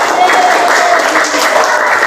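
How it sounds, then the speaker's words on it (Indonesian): Steady crowd applause from a class of schoolchildren after a group song, dense and continuous throughout the short moment, with some voices mixed in. "Tepuk tangan untuk kelas 5."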